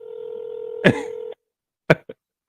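A phone call being placed to a McDonald's restaurant: a steady dial tone hums, then cuts off with a clack, followed by a few short separate beeps of keypad dialing.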